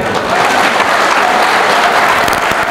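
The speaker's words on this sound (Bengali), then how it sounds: "আমি আরেকটু অনুরোধ করছি, আরেকটু জোরে তালি দেওয়া যাবে?" An audience of students at an award ceremony for high-achieving school exam results breaks into loud, sustained applause, thick and steady throughout, close and full.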